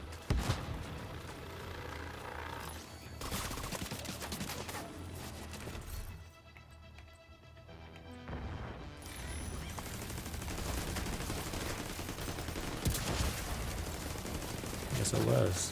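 Gunfire in The Division 2, sustained rapid automatic bursts crackling over a dense game soundscape, with a brief lull midway before the shooting resumes, loud and continuous.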